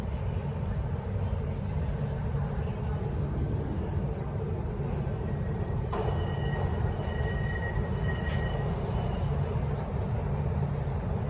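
An underground train runs through a tunnel-like station in an underground rail system, giving a loud, steady rumble throughout with a faint high wheel squeal rising briefly near the end.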